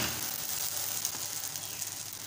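Egg paratha frying on one side over a low flame and about to be flipped, giving a steady close sizzle with a bright hiss and a few soft crackles, no voices.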